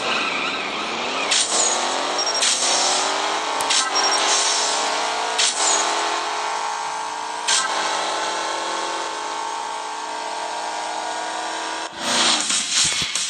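In the CSR Racing video game, a Bentley Continental GT race car's engine drones loudly and steadily throughout, broken by several sharp upshifts or clicks and a final burst near the end, with no talking.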